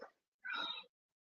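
A house cat gives one short, quiet meow in near silence, just after a brief faint sound.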